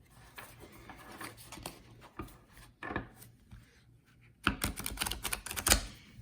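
Quiet papery riffling and flicking of tarot cards being shuffled up close, in short bursts that grow busier toward the end, with no talking.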